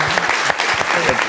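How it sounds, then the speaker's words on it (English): Dense audience applause from a conference crowd, loud and close with rapid overlapping claps throughout a short burst. "So a good applause."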